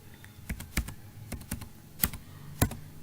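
A computer keyboard clicks in an irregular run of keystrokes as a card number is typed, a few sharper taps standing out, close and fairly quiet with no talking.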